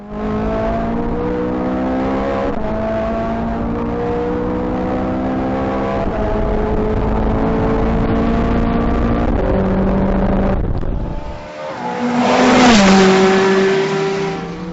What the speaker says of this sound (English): an extra valve opens in the exhaust flap and it makes this god-awful noise that's just really wonderful